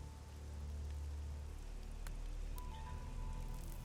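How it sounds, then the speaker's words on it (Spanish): Rain falling in the video game Elex, a steady soft patter and hiss over a low ambient hum, with a few faint distant tones. "No sé por qué siempre está lloviendo."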